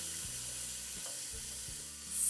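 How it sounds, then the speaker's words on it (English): Chopped red pepper hits melted vegan butter in a hot pan, giving a steady close hiss of frying with a few soft stirring bumps, no voices. "the vegan butter has melted, I'm going to add 1 chopped red pepper"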